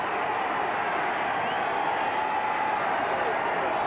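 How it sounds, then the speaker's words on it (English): A big crowd roars at a 1995 Tennessee versus Vanderbilt college football game, a dense, steady wash of stadium noise from many voices on a third down. "Listen to this crowd."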